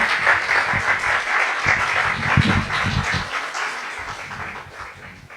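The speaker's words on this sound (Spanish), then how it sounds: "Un aplauso, por favor, para ellos." An audience applauds at a colloquium on contemporary studies of Chile's indigenous languages: steady, dense clapping that keeps going for several seconds with no break and slowly fades a little toward the end.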